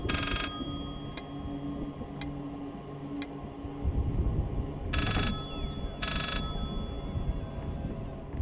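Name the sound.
telephone ringing in the video game Layers of Fear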